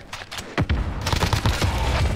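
Rapid bursts of gunfire in the Call of Duty Warzone video game, sharp cracks coming in quick clusters after a brief quieter start, loud and close.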